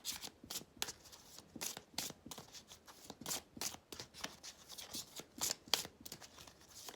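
Oracle cards shuffled and drawn at a table during a French zodiac reading, giving a steady run of crisp riffling and snapping card flicks, close and fairly quiet, with no talking.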